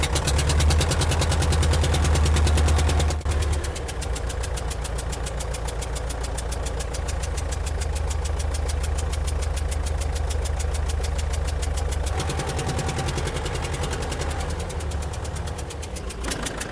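An old car's engine runs steadily with a loud, rough, knocking idle, close and continuous throughout, with a brief dip as it revs or shifts partway through and no talking.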